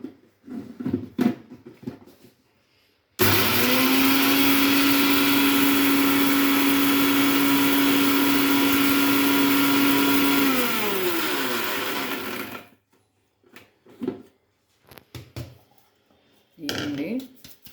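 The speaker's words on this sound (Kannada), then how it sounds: "ಇಲೈಚಿ, ಆಮೇಲೆ ಗಸಗಸೆ, ಸೋಂಪು ಸ್ವಲ್ಪ ಮಿಕ್ಸಿಗೆ ಹಾಕ್ತಾಯಿದ್ದೀನಿ" A mixer grinder whirs loudly for about nine seconds as it grinds cardamom, poppy seeds and fennel, then winds down, with talking before and after the run.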